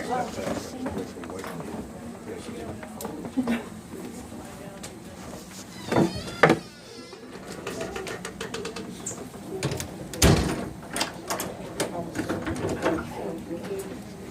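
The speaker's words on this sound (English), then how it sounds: "I'm just going to close this door." A door in a historic house is pushed shut, making a couple of brief thuds amid a person talking, with pigeons cooing faintly in the background.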